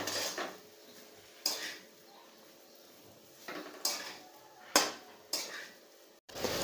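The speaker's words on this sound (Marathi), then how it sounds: "आणि थोडा वेळ परतून घेणार आहे" Spatula scraping and knocking against a pan while vada pav potato filling is stir-fried, several sharp clanks spaced a second or so apart over a quieter background, close by.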